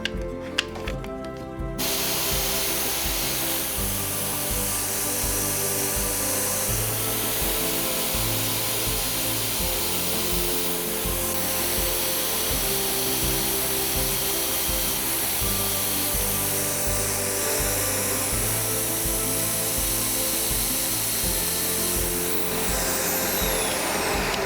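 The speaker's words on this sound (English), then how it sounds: "Now I go sanding it with the grain." Steady whirring of a lathe with abrasive sanding along the grain against a spinning wooden sphere, continuous and fairly loud, with slight shifts in pitch as the pressure changes.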